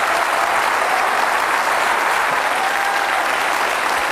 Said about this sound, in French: je voudrais qu'on les applaudisse très fort, nos téléspectateurs belges